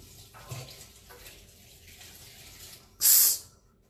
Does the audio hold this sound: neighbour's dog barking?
no